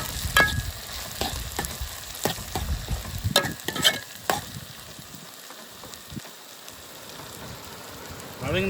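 Tomatoes sautéing in a pan for dry fish sambal, a soft steady sizzle broken by a few louder stirring scrapes and clatters, close and fairly quiet.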